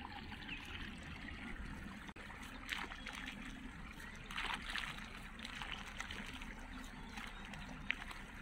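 Water trickles and gurgles faintly but steadily as it fills a rice paddy nursery field during irrigation, heard outdoors with no clear talk.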